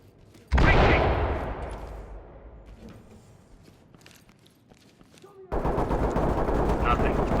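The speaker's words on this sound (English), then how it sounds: "Deploy flashbangs." In the Ready or Not video game, a loud flashbang detonation goes off in a room, followed by a long fading ring and scattered clatter, then sharp, dense gunfire erupts near the end.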